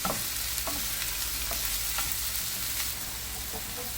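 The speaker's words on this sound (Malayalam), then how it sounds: "അതും കൂടി നമുക്ക് നന്നായിട്ടൊന്ന് മിക്സ് ചെയ്യാം" Salted sprouted beans and onion being stirred in a pan as a stir-fry, with a close, continuous sizzle and regular scraping strokes of a spoon across the pan every half second or so; no voices.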